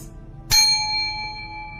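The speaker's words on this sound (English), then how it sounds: "when I ring, first take a deep breath through your nose, hold it, and when I hit the chime, release" A single strike on a meditation chime gives a bright, clean ring that decays gradually in an otherwise hushed room, with a faint low hum underneath.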